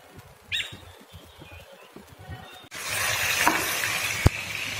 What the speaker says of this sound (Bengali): তো এখন ভেজে নিচ্ছি।